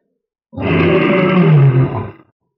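Loud, deep snarling roar of a golden-horned, silver-winged monstrous beast as a fantasy sound effect, one sustained growling bellow lasting under two seconds, close and alone.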